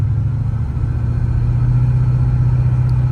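A Ford LTD's low-compression 390 V8 runs steadily close by, a deep, even low rumble that holds constant for the whole stretch with no voices over it.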